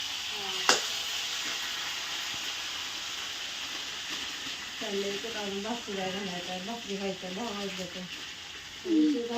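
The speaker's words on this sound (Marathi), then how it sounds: "इकडे डाळीला द्यायची मग फोडणी आहे ना" A tempering for dal sizzles in hot oil with a continuous steady hiss and occasional stirring. A person talks over it in the second half.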